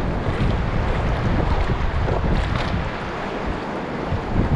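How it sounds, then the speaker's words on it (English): A canoe moves forward on a remote Arctic watershed river, with steady water rush and constant wind buffeting the microphone, dense and close throughout with no clear individual paddle strokes standing out. "Paddle forward."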